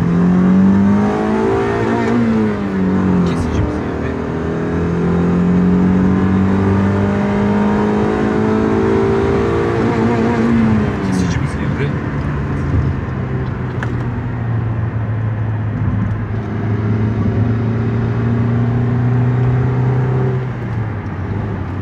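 A Honda Civic 1.4 iES engine, freshly rebuilt, revs and pulls through gears on a test drive, with rising and falling engine tones and wind and road noise from inside the car.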